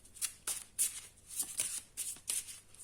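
Oracle cards with fairy artwork being shuffled by hand: a series of quick, crisp riffling flicks in an irregular rhythm, close and fairly soft, with no talk over them.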